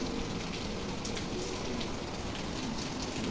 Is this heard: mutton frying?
no